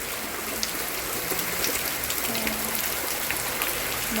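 Heavy rain pours down steadily, a dense, constant hiss of drops hitting surfaces close by, with no voices.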